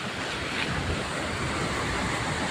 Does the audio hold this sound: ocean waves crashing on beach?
yes